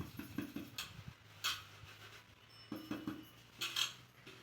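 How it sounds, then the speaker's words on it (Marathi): Raw mango pieces are mixed with spice masala in a bowl, giving faint, quiet clinks and scrapes against the dish in a few short bursts, with low background noise. "आता आपण हे ह्या फाकात कालवणार आहे बघा तर मग छान असा मिक्स करून घ्यायचा आहे"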